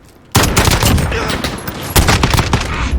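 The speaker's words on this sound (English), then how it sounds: "It's the only single shot gun in the game." A single-shot gun fires in Call of Duty: Modern Warfare. Two loud, sharp reports land about a second and a half apart, and each rings out into a long, noisy tail.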